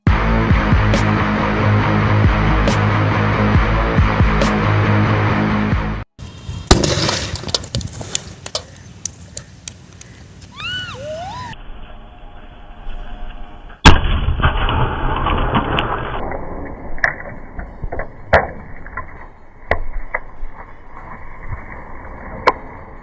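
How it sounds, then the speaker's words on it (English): Sodium reacting inside a Coke can: a loud sustained roar and crackle, then a sharp burst followed by scattered pops, fizzing and thuds as debris settles, with later bangs trailing off. "expected a bigger explosion than this"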